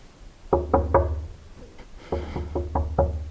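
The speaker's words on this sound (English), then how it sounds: "Should I knock?" Knuckles rap on a door in an abandoned building: a quick group of three loud knocks, a pause, then five more in an even rhythm, close and hollow.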